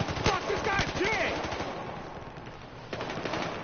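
Rapid automatic gunfire rattles in Battlefield Hardline, a dense burst of close shots with brief pauses and whistling effects, fading slightly before another volley, with a voice speaking over it.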